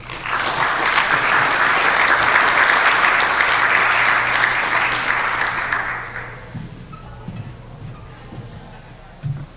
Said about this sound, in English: I'd like you to join me in a warm round of applause for our speakers